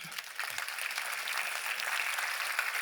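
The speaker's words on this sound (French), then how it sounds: "Merci beaucoup, on vous applaudit." Applause from a forum audience after a presentation on inflation, steady moderate clapping from a room of people that begins after a brief soft moment and holds evenly to the end.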